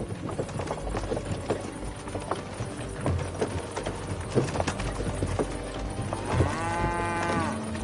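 Horses pull a cart in the medieval game Kingdom Come: Deliverance 2, hooves clip-clopping in a steady rhythm with wooden creaks and a short whinny near the end, fairly close and without talk.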